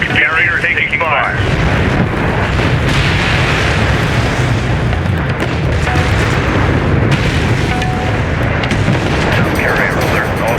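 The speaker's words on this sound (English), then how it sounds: "Strike craft destroyed. Alert, carrier taking fire." Heavy booms and rumbling explosions hit a carrier under fire in Homeworld: Deserts of Kharak, dense and continuous over a low battle roar, with faint radio-style voice chatter mixed in.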